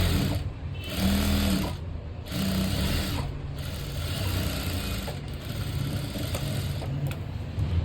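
A sewing machine stitching a trial blouse runs in close, loud mechanical bursts with a few brief pauses between runs of stitches.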